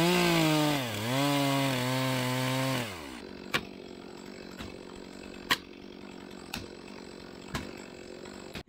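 A chainsaw revs loud and close with a wavering pitch as it cuts through the hinge strap of a felled tree, then the engine drops to a low idle broken by a few sharp knocks and clicks.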